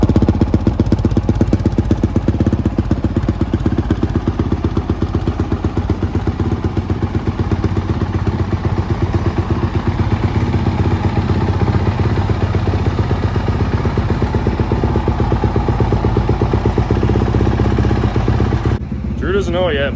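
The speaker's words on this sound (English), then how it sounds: "Let's get this thing started up and take it for a test ride." Honda CRF450R dirt bike engine running loud and close, a steady rough throbbing idle that holds for the whole stretch and then cuts off abruptly near the end.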